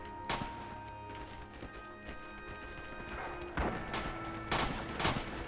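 Gunfire in the Rising Storm video game on a Singapore battlefield with Australian forces: scattered shots over a busy battle background, with a sharp crack early on and louder bursts near the end.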